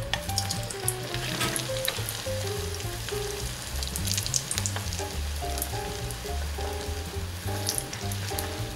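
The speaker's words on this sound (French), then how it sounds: "Et on va passer au deuxième bain de friture." Polenta fries sizzling in hot oil during their second deep fry, a steady dense crackle and bubbling that runs evenly throughout, with music playing underneath.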